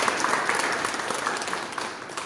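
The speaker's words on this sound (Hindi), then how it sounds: "तो इसके लिए एक ताली बननी चाहिए" An audience at a Bhojpuri film event applauds steadily, dense clapping held at an even level throughout with no voices over it.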